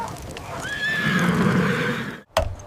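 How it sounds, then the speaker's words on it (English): A war horse gives one long, shrill whinny close by, with a few hoof knocks before it and a sharp thump just after. "War horses waited close to the warriors' doors."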